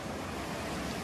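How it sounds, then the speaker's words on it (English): Ocean waves wash on Las Animas beach near Puerto Vallarta, a brief, steady wash of surf mixed with wind rumble on the microphone, with no voices. "This is the beach, like I said."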